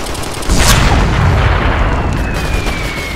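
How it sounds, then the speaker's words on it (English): Combat in Operation Flashpoint: Red River, a loud boom followed by a dense roar of gunfire and rumbling blasts, close and continuous. "We're taking heavy fire from the factory."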